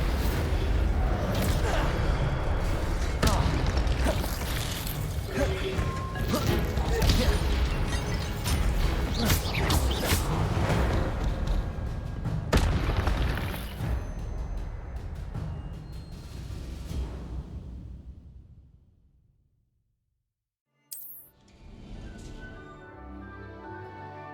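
An Incendio fire spell is cast in Hogwarts Legacy, with a dense run of bursts, whooshes and mechanical clatter, then a fade to near silence before a sharp crackle and ringing tones return.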